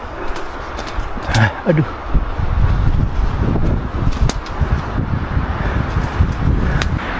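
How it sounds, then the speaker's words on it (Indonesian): Strong stormy wind roars on a mountain climb, a steady broadband gust close to the microphone with buffeting, while a person exclaims briefly over it. "Emang angin nggak bisa dilawan"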